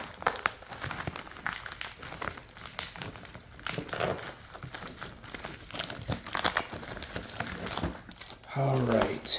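Crinkly plastic packaging of a Thomas & Friends Capsule Plarail toy is handled and opened up close, a steady crackling and rustling while a person talks over it.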